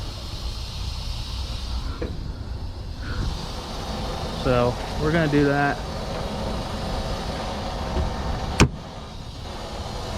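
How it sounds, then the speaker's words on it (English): Broadband air hissing from a flatbed straight truck's rear air suspension airbags leveling runs steadily through the clip with a car-like background hum; someone speaks briefly partway through and a sharp click sounds near the end. "The air we're hearing right now is the rear airbag leveling themselves."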